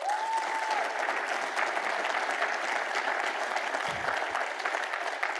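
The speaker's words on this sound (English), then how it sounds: "let's give Chris Connor another hand of applause here." A conference hall audience at an opening ceremony gives sustained applause, a dense, even wash of clapping that holds steady for several seconds.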